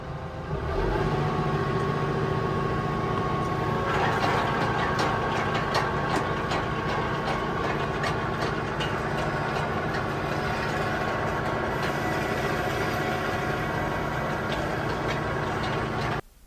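A tractor engine runs steadily while powering an auger attachment for planting trees, a continuous low rumbling drone with some rattling higher texture, fairly close and unchanging.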